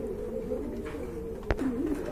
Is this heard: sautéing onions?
no